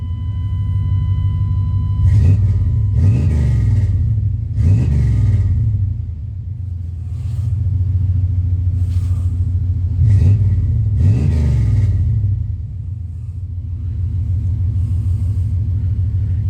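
A loud car engine with a muffler idles with a deep rumble and is revved several times in short bursts, close and steady throughout.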